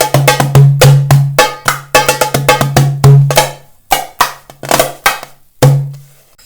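Darbuka drum playing the Addinu Lana rhythm, a fast pattern of sharp slaps and deep booming doum strokes with ringing tails, close and loud, played alone.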